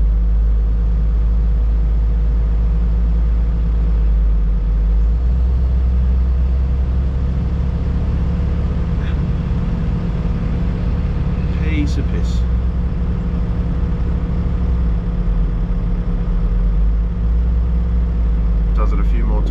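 The diesel engine of a loaded Volvo 8.8 pro truck rumbles steadily and loudly close by as it pulls out, a deep, constant drone with faint metallic clinks in the middle.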